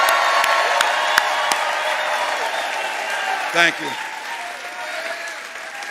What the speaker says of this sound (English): Can we give a round of applause too for Orange Peel for hosting us right here?